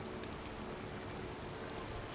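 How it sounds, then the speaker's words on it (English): Quiet, even rainfall in the video game Disney Dreamlight Valley, a faint unbroken hiss of drops with nothing else audible. "It's not great that it's raining."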